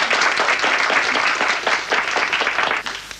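A studio audience bursts into applause during a comedy television show, lively clapping from many hands swelling loud and then thinning out slightly toward the end.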